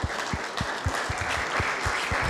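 Audience applause at a police recognition ceremony, a steady wash of many hands clapping at moderate volume with a few lower thumps mixed in, continuing throughout with no talking.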